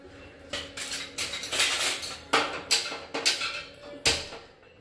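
A metal pot clanks and rattles on a kitchen stove as it is set down to heat milk, a series of sharp, close metallic knocks and scrapes in an uneven rhythm.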